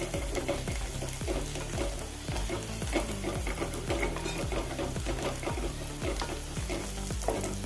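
Salted onions fry in a pan, sizzling steadily while a spoon stirs them in quick repeated scrapes and clacks, close and clear with no talking.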